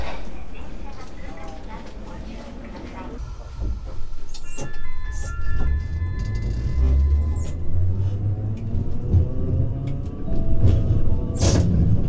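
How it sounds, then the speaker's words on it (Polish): Rumbling of a tram in motion in wintry Sapporo, Japan, with rising and falling motor whine, rattles and clanks, and people talking nearby over the vehicle noise. "Przejadę się też tramwajem"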